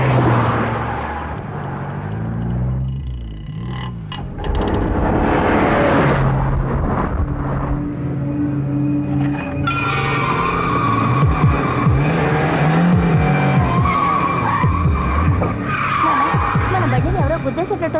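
A car races toward another vehicle and skids in a film scene, its engine roar and tire noise loud and dramatic under a swelling music score, with a throbbing heartbeat-like pulse building tension.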